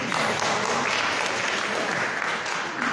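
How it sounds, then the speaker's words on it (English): Sustained audience applause fills a church cathedral service hall, dense and steady clapping throughout with no voices over it. "I thought you would be clapping by this time."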